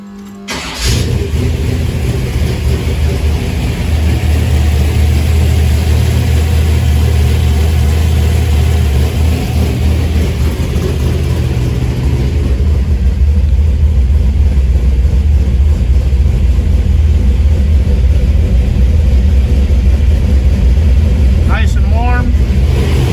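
A 1971 Chevrolet El Camino Super Sport, sitting in a garage, cranks and fires up, then settles into a loud, steady, rumbling idle that runs on for about twenty seconds.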